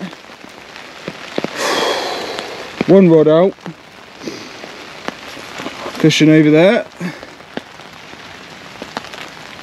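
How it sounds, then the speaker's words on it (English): Steady rain patters down at a winter carp fishing reservoir, a constant close hiss of drops, with someone speaking briefly twice over it. "It's not even meant to rain today."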